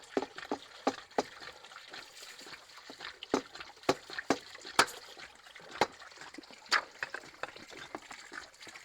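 Water drains out of a Hayward DE pool filter, a faint trickle broken by irregular sharp drips and splashes, close by with no talk.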